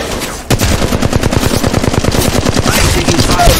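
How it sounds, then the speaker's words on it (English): In an Apex Legends Mobile match, enemies fire sustained automatic bursts at the player; after a brief softer lead-in, a loud, dense rattle of gunshots runs steadily to the end. "I'm taking fire here."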